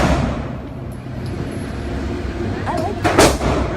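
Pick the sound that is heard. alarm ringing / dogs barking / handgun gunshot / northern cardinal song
handgun gunshot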